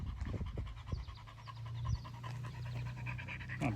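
A dog pants close by in quick rhythmic huffs, with a few louder breathy bursts and a faint whimper, heard outdoors on a walk with no talking.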